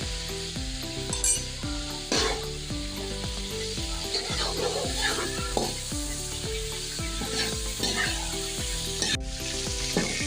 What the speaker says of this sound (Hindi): तो देखिए चिकन हमारा ब्राउन हो गया, लाइट से ब्राउन करना चाहिए।